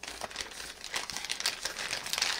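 A plastic watch packaging bag crinkles and rustles continuously as it is handled and opened, close and fairly loud, with no talk over it.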